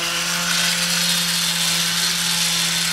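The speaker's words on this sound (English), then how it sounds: "Got my cordless sander. I sand the flank." A cordless sander working the flat surface of a wooden brace on a stand, a continuous loud even whir with a steady hum and a broad gritty hiss, no pauses.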